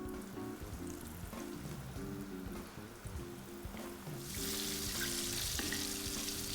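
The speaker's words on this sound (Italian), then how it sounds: "L'olio ora è pronto e vado a friggere le melanzane" Meatballs fry in hot oil in a home kitchen, a steady close sizzle and crackle that swells louder partway through, with no talking.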